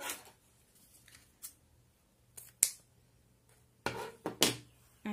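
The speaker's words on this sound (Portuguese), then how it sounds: "Então vou cortar aqui deixando uma sobrinha." Scissors snip through fabric while a cloth utensil holder is being folded and sewn, giving a few short, sharp cuts spaced apart against a quiet room.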